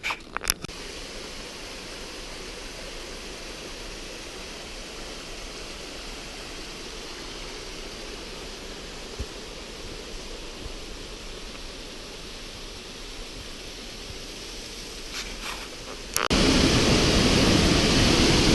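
A waterfall along the Overland Track in Tasmania, heard as a continuous broad rushing roar that holds steady, then surges suddenly louder and closer near the end.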